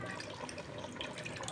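Tamarind water poured into a pot of fish curry, a steady splashing liquid pour running continuously and close up, with no voices.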